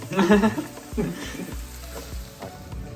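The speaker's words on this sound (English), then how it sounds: "while the onions are cooking" Onions sizzle in a pan on medium-low heat with a soft, steady hiss, under brief clattering and handling noises near the start.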